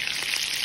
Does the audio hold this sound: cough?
no